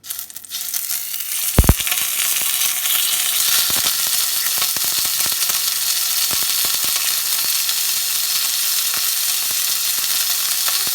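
A filet steak drops into a hot pan with half a tablespoon of oil, landing with a brief thump. A loud, steady sizzle follows and holds close and continuous throughout, with no talking.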